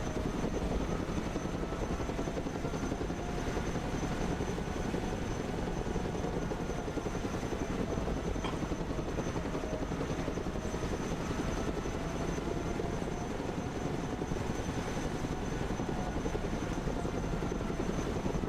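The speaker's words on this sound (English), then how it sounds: "Chinook land." Chinook helicopter landing in the video game Broken Arrow, a steady broadband rotor and engine roar held at constant loudness throughout, with no talk over it.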